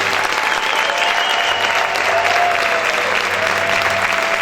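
A church congregation claps loudly to the Lord in a dense, continuous round of applause that stays steady and full throughout, with a faint murmur of voices beneath.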